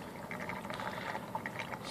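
Water gurgling and bubbling steadily in a vortex between two connected 2-liter bottles, a continuous watery churn with small pops, fairly quiet and close.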